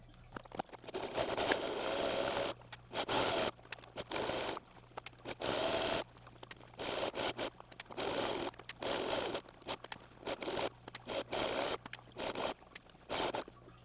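A sewing machine stitches a replacement zipper into a fursuit. It whirs in short, repeated bursts separated by brief pauses, close and fairly quiet, with no voices.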